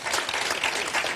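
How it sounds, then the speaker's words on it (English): Brief burst of audience applause for a region at a Youth Brigade launch, dense clapping filling the short moment. "Let's give this region a very big hand of applause."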